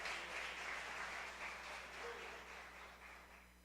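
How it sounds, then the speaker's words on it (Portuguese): Church congregation applauding during an evening worship service, a dense, continuous wash of clapping that sounds distant and fairly faint and slowly fades, with no one speaking over it. "Você pode aplaudir o Senhor nessa noite?"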